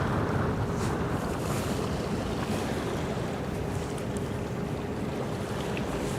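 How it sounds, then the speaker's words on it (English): Low ship engines rumble steadily, revving while maneuvering on the Westerschelde, under strong wind buffeting and the wash of water, with no voices. "you do hear the ships, their engines revving up and down to maneuver."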